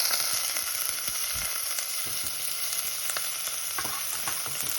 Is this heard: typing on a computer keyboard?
no